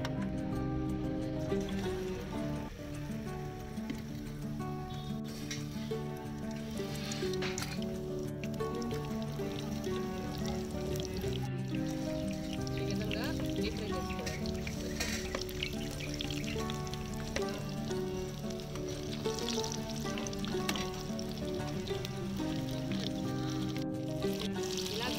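Stuffed brinjal bajji dipped in batter fry in oil, Nellore style, giving a steady, continuous sizzle and bubbling that holds at an even level throughout.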